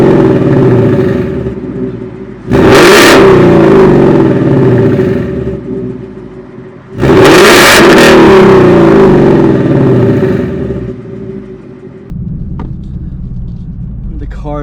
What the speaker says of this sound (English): we'll do a couple revs and we'll do the first drive with my X-Pipe and my Eibach lowering springs